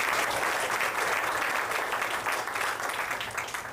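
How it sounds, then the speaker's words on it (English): Studio audience at a magic show applauding in a vote on whether a newspaper is torn up, a steady dense wash of clapping that stays loud and unbroken throughout with no talk over it. "Show by a round of applause if you think the newspaper's torn up."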